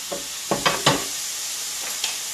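Shrimp searing in hot oil in a pan for a rice noodle stir fry, a steady sizzle with a few sharper crackling pops, close and alone without voices.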